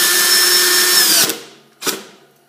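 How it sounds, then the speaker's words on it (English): A power drill drives a 3/16 stainless steel sheet metal screw while modifying a Weber kettle grill. A loud, steady whine runs for over a second and winds down, followed by one short burst, all close and without talking. "use a sharper drill bit than I'm using"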